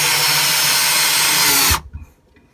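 Power drill on a caravan backing out a screw, a steady loud whirring buzz for under two seconds that cuts off sharply, followed by faint clatter and quiet.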